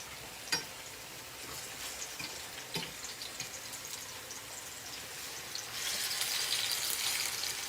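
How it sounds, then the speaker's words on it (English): Sliced potatoes cook in hot oil in a pan for a Spanish tortilla de patatas in Spain, giving a steady close sizzling hiss with a few light clinks. The hiss grows louder near the end, and no one speaks. "Sizzling away."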